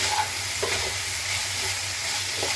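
Onion, carrot and tomato fry together gently over a low flame, a steady soft sizzle with a low background hum and a couple of faint stirring scrapes.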